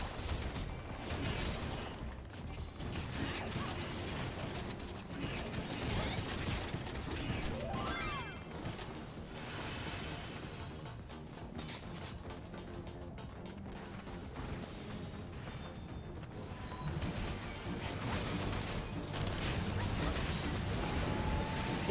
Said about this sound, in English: Yeah, there definitely is a lot of AoE noise.